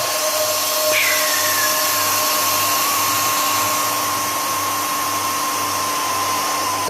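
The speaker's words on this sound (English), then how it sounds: "just hook the giant vacuum pump at the door and suck everything out" A large vacuum pump evacuates a vacuum chamber, producing a loud, constant close-up roar and hum with a pulsing low undertone. A brief rising whine enters about a second in and then holds steady.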